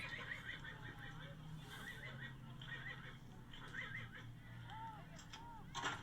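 Horse at a rodeo neighing in repeated whinnies, shrill and mid-distance over a noisy background, with faint goose-like honking and people talking quietly.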